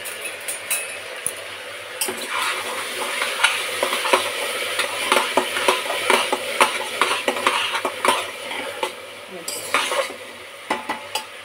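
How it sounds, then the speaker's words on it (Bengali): A pan of white potato curry seasoned with ghee, salt, sugar and chili is stirred, giving repeated metal scrapes and clinks of a spoon against the pan over a low, steady sizzle. "এবার একটু নাড়িয়ে চাড়িয়ে দেবো"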